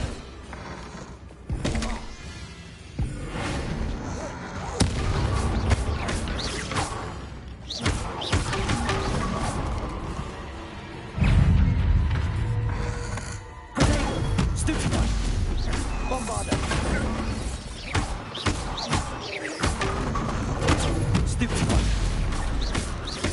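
Bombarda blasting spells go off in the video game Hogwarts Legacy, giving repeated heavy thuds and booming blasts over dense game sound, with a voice talking at times.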